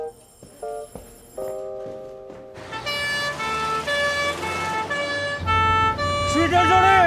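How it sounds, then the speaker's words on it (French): A stuck police car siren wails continuously as the car drives, rising loud and near over engine rumble after a few sharp knocks and tones. "C'est parce que la sirène est coincée ! Dès qu'on roule, elle se met en route !"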